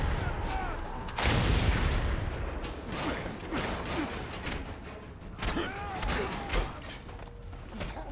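Shotgun blasts from the Mad Max video game, fired at a shield-carrying enemy: several sharp bursts spaced across the stretch amid mechanical creaks and clatter, with a voice talking intermittently underneath.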